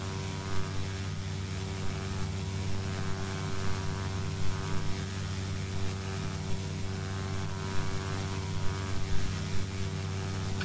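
A twin-engine propeller plane in the X-Plane 10 flight simulator drones at a steady, close engine pitch, a continuous hum with faint rhythmic flutter and no talk.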